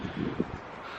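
Brief low rumbles of wind hitting the microphone, a few gusty thumps early on before easing into a steady hiss.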